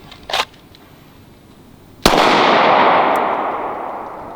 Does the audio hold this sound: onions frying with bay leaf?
no